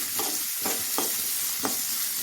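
Onions sautéing in a pan for vegetable poriyal, a dense steady sizzle broken by three or four quick scraping stir strokes, close and with no voices.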